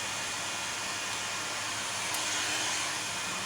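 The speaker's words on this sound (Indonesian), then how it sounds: "di sini untuk kipas atau fan sudah berfungsi atau berputar dengan normal ya di sini" A cooling fan inside a 5kW 48V pure sine wave inverter box panel with a transformer spins continuously, giving a steady, close, broadband whoosh like a hair dryer that holds an even level throughout with no talking.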